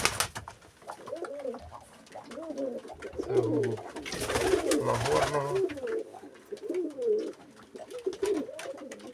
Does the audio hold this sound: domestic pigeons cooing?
yes